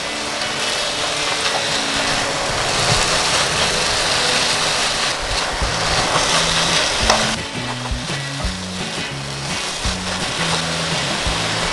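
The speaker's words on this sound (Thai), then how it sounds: "เราจะค่อยๆเกลี่ยไข่ให้ทั่วเส้นมะละกอนะคะ ผัดให้เข้ากันค่ะ" Shredded papaya and egg stir-fried in a pan give a steady, close sizzle that runs unbroken throughout, with faint scraping and tossing sounds underneath.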